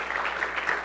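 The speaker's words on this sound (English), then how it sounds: "So one more round of applause." A startup demo day audience claps in a steady, dense burst of applause, fairly loud and with no voices over it.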